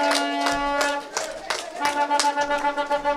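Audience applause at a community meeting in Victoria, St. Mark, Grenada, with scattered hand claps and taps rising and thinning over a few seconds, fairly near, alongside a tonal hum and some voices.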